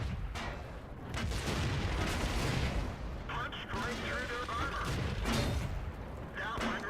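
Booming tank cannon fire and explosions in World of Tanks, with several heavy blasts and rumbling impacts across the stretch under steady battle noise.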